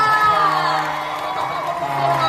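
A concert crowd at the Chill at the Parq 2025 event cheers and whoops loudly and continuously, with shouting voices and a steady roar and no pauses.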